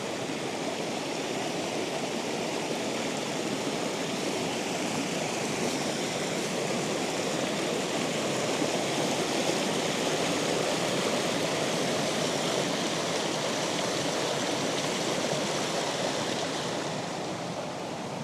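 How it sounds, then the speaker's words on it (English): Steady, loud rush of a waterfall heard from its top, roaring continuously with no breaks, a dense wash of white noise close by. "I guess we're starting from the top of the waterfall"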